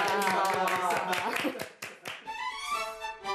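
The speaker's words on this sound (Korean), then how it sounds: "박수 안 칩니까?" A small group claps hands in a rhythmic burst that lasts about two seconds and fades into cheering voices and lively talk in a home.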